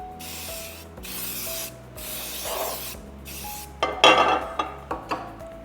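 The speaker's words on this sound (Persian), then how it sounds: "اسپری بزنید" Release oil sprays onto a cake pan for a lemon poppy seed cake in a series of short hissing bursts, followed by light clattering as the metal pan is handled, close and with no talk.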